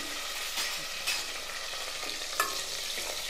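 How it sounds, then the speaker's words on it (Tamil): Small shallots and curry leaves sizzle in hot oil for a bean curry, with a spoon scraping and stirring the pan a few times in close, quiet detail and no talking. "ஒரு கைப்பிடி சின்ன வெங்காயம் அதையும் போட்டுடலாம்."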